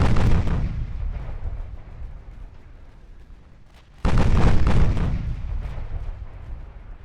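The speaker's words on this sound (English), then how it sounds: "The other battleships are firing their secondaries on him too." Heavy battleship guns in a naval battle in Ultimate Admiral: Dreadnoughts boom out in two big salvos, the first rumbling and fading away before a second loud blast hits and rolls on, with no voices.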